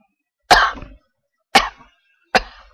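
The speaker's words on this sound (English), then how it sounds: "He coughs weakly" A collapsed officer mortally wounded by shrapnel coughs weakly in the Buck Rogers video game, three short, breathy coughs spaced about a second apart, fairly close and alone with no other sound.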